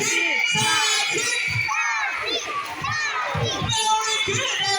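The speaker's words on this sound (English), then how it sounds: "Come on, girls, let me hear cheer." Girls in the audience at a sea lion show at Manila Ocean Park cheer together in high chanting voices, a loud rhythmic group chant of repeated syllables throughout.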